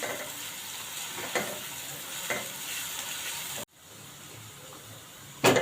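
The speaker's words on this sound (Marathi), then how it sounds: "आता कांदा चांगला परतून घ्यायचा" Grated onion sizzles and fries in a hot pan with steady crackling, broken by a few scraping stirs and a brief pause.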